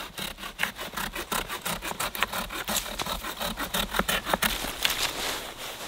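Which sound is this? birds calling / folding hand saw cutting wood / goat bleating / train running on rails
folding hand saw cutting wood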